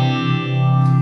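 Electric guitar played through a vintage Russian-made Electro-Harmonix Small Stone phaser into a tube Marshall amp with heavy reverb, a sustained distorted chord swirling with phase shifting, loud and alone.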